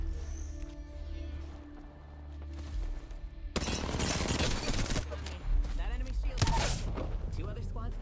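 Gunfire from a fight in Apex Legends crackles in dense, rapid bursts that kick in suddenly after a quieter start, heavy and sustained with sharp louder shots near the end.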